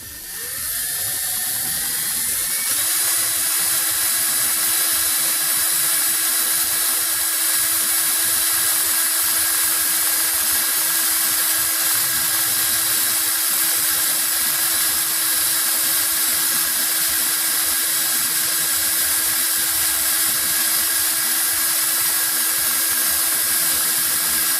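Drill spinning a paracord fid held in its chuck while it is sharpened, a loud continuous high-pitched whine with a grinding rasp underneath, steady for over twenty seconds after a brief spin-up.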